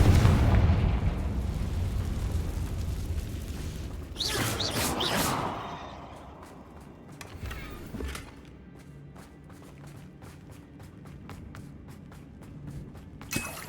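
The Confringo spell explodes in the video game Hogwarts Legacy as a sharp burst followed by rumbling debris and a string of crackling pops that fade into quieter game ambience.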